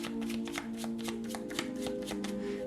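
Tarot cards riffled and shuffled by hand, a quick run of crisp, evenly spaced flutters close to the microphone with a faint hum beneath.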